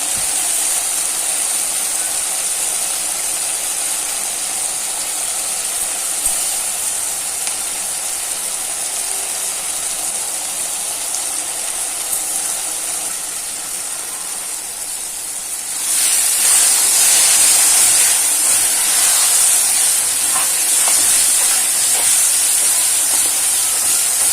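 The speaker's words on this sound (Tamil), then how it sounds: "இப்ப அரைச்ச பூண்டை சேர்த்துக்கலாம்." Ground garlic goes into a hot pan with a steady sizzling hiss that jumps suddenly louder and brighter partway through, then keeps crackling strongly, close and alone.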